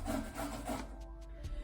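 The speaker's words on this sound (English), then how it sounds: "I'm going to grate the zucchini down" Firm zucchini and yellow squash rubbed against a grater, a few quick rasping strokes followed by soft taps, close and fairly quiet.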